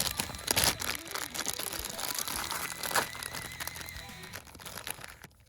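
Crinkly plastic rustles and tears in quick bursts close by, a thin Hot Wheels toy car packet being pulled open over a few seconds.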